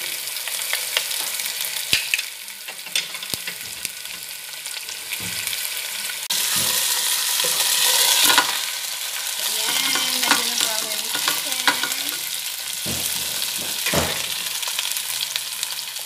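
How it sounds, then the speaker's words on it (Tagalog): Chicken pieces fry in a pan, a close steady sizzle with scraping and clattering as they are stirred and turned, growing louder midway when the hissing surges, with no voices. "So, ayan, medyo na-fry na siya."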